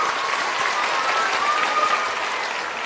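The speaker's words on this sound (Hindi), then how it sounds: "अब एक बार जोरदार ताली बजाइए आदरणीय प्रधान जी के लिए।" Crowd at a village rally in Supaul breaking into loud, dense, steady applause that fades slightly at the end, with no talk over it.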